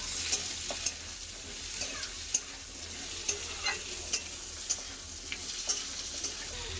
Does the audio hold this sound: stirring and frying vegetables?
yes